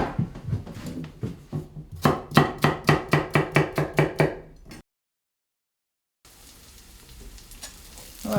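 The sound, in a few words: knife slicing carrots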